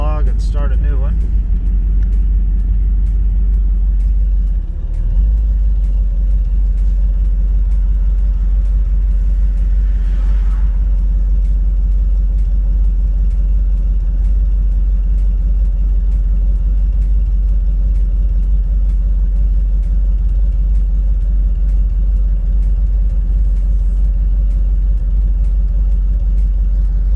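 A Nissan 240 drives along a road, its engine giving a steady, loud low rumble under continuous road noise with no marked revving, while a person talks over it throughout.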